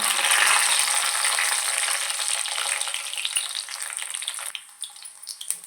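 Garlic sizzles steadily in a hot pan with a bright, dense crackle that is loud at first and thins out toward the end, broken by a few sharp pops, with no voices.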